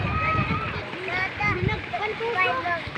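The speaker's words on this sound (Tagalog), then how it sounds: "Nandito po kami sa dagat ngayon." Sea waves splash along the shore at sunset during a beach outing, a steady wash of water running under close, continuous voices, including a child's.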